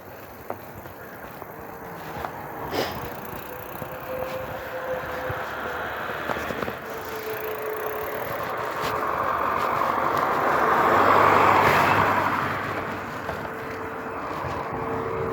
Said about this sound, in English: Car coming there.